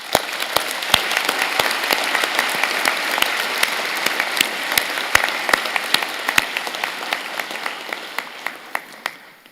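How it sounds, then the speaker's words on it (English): Vigorous applause from a convocation audience at a university graduation ceremony, steady dense clapping with sharp individual claps standing out, sustained throughout and tapering slightly at the end, no talking. "join me and the platform party in thanking them with a vigorous round of applause"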